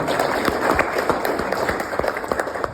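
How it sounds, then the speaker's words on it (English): A room full of people at a Democratic Party gathering in Jacksonville breaks into steady applause, a dense wash of many hands clapping at once, sustained and fairly loud throughout with no talking. "So we can give a round of applause for that."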